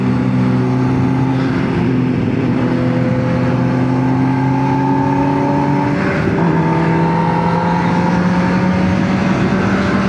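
A Kawasaki ZX-6R sport motorcycle passes on a night road, its engine note climbing in pitch through the gears as it goes by, with another engine drone underneath.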